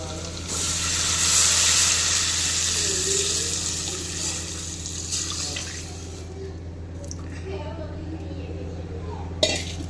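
Spices frying in hot oil for Rajasthani kadhi give a steady, close sizzle that swells early and then settles, with soft stirring and scraping in the pan and a brief clink near the end; no one speaks.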